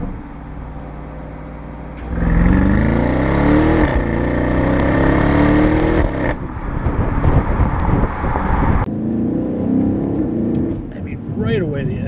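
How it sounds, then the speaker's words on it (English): A 2021 BMW X5 M50i with its 4.4-litre V8 in Sport Plus mode rumbles through its exhaust as it accelerates, the engine note rising in pitch over several seconds, with someone talking over the drive. "I'm gonna pop it into Sport Plus here. You get a nice little rumble out of the exhaust."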